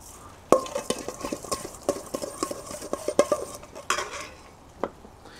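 Walnuts and garlic frying in a pan are stirred with a metal utensil. Quick clinks and scrapes land in an irregular rhythm over a faint, soft sizzle, close and fairly quiet.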